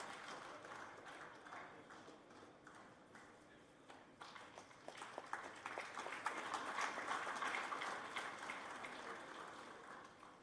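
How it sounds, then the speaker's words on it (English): An audience applauds to welcome Professor P.G. Chengappa at a formal event; scattered claps thicken into fuller, sustained applause about halfway through, heard faintly from a distance. "Please join me in extending a warm welcome with a thunderous round of applause"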